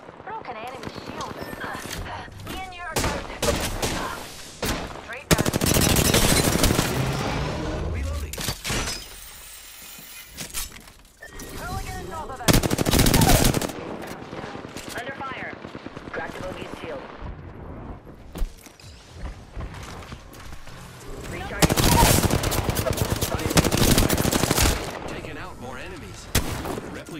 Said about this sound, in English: Taking fire, friends.